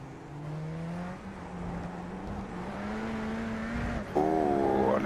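A Radical race car in a sim racing game at Fuji International Speedway accelerates hard, its engine note climbing steadily through a gear, then a sharp shift into a higher, louder whine near the end.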